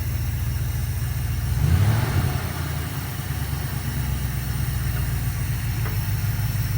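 A 1972 Dodge W200 Power Wagon, running again after years unused, idles with a steady low engine drone, then briefly swells as it is put into gear before settling back to a constant rumble.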